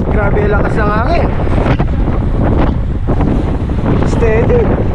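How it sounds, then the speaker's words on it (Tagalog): Strong headwind roaring loudly across the microphone during a road bike ride on the Al Qudra cycling track in Dubai, a constant heavy buffeting with faint voices breaking through. "Grabe lakas ng hangin."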